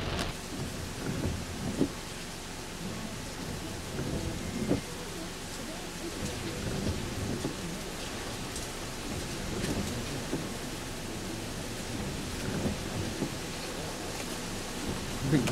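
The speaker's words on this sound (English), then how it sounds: "That's one mean storm right there." Heavy rain pours steadily throughout a January thunderstorm, with low rumbling thunder rolling in and out beneath the downpour; no speech.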